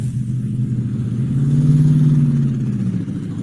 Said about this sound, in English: that's specifically to pick up engine noise